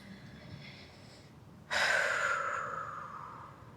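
A single loud, breathy exhale or sigh during a yoga class, sudden and close, trailing off over a couple of seconds after a quiet stretch.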